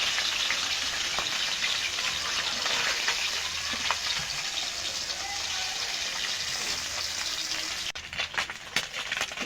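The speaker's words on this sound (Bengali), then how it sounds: "পুঁটি মাছ ভাজতে বেশি টাইম লাগে না," Puti fish frying in oil in a wok, a dense continuous sizzle like heavy rain that stays loud throughout, with a few knocks and clatters toward the end.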